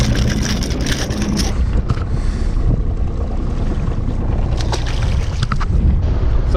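A fishing boat cruises around the heads off Herm Island in a strong breeze, with a steady engine rumble and heavy wind buffeting close to the microphone throughout.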